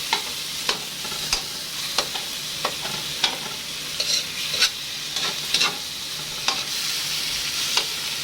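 Tomatoes stirred and sautéing in a pan for a salmon-head dish with pechay: a steady close sizzle with regular scraping stirs roughly every half second, no talking.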